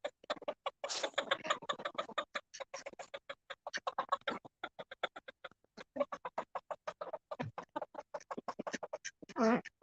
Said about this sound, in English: Little ducks.